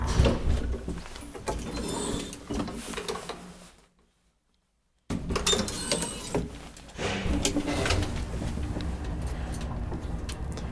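A 1951 Kone traction elevator in an apartment building at Koroistentie 4D, Ruskeasuo, Finland, runs with a dense, continuous mechanical whirring and clatter, broken by about a second of near silence midway before the machinery noise resumes.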